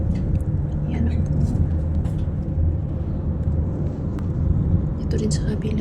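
Heavy road traffic with many cars stopping creates a continuous low engine rumble outdoors at night, with a person talking over it.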